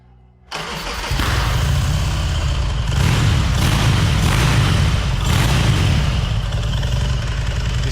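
A custom-built motorcycle engine cranks over and fires, catching quickly into a loud, steady, throaty idle with a few revving swells, heard close and alone with no talk.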